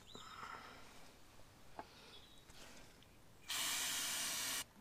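Rinsing out a gauze filter from a vintage Massey Ferguson 35 tractor: faint ticks and a soft hiss, then a loud, steady spray of liquid lasting about a second before stopping abruptly.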